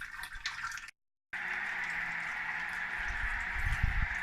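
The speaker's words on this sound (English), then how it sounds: "take the hot water that's in here and gently pour over a few liters over the malt" Hot water is poured over malt during beer brewing, a steady rushing splash with one brief break before the flow continues unbroken.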